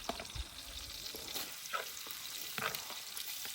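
Tempering spices sizzle in hot oil in a pan at an outdoor jungle cookout, a soft continuous frying hiss with light stirring scrapes and a few faint clinks, heard on its own with no talking.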